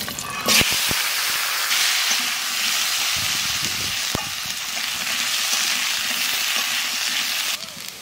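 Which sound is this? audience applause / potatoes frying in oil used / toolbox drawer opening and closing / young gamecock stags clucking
potatoes frying in oil used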